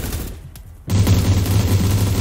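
Gunfire in the top-down battle game surviv.io, a brief quiet lull followed by a sudden loud, sustained roar of blasts and booming shots that lasts to the end.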